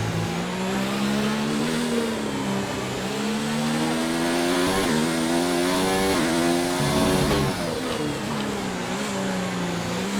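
A Formula 1 car's 1.6-litre turbocharged V6 hybrid engine in a racing game roars loudly and continuously at Russia's Grand Prix, pitch rising and falling through gear shifts and revs, with no talk.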